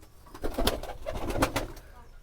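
Pigeons coo in a pigeon farm, soft throaty calls repeating close by in a loose rhythm over low background noise.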